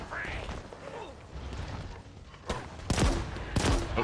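Gunfire from an enemy weapon in Halo Infinite, a fan-made campaign level aboard a crashed frigate: a few sharp, punchy shots burst out near the end after a stretch of quieter game ambience, fairly close and moderately loud.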